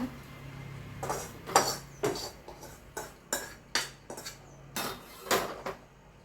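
Roasted garlic being lifted out of a pan with a metal spatula: about nine sharp, close knocks and scrapes against the pan at an uneven rhythm, separated by quiet gaps.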